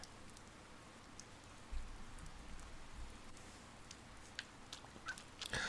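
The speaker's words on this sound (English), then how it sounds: "it's eerily quiet when it rains." Rain falls steadily in the Persona 4 Golden video game, a soft, even patter with occasional brighter drops, faint and alone with no talking.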